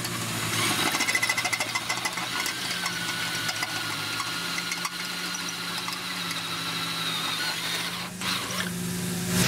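A power tool enlarges a hole in subfloor sheathing during a DIY tiny house build, giving a steady loud mechanical whir and vibration that holds for nearly ten seconds with no talk.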